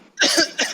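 A short, close cough in two quick bursts, harsh and breathy.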